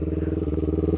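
A motorcycle engine thrums close by, a loud, steady pulsing drone with a rapid even rhythm, no voices over it.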